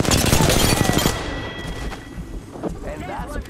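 Rapid video-game gunfire crackles loud and close in a dense burst, then thins into scattered shots and distant booms under a player's voice.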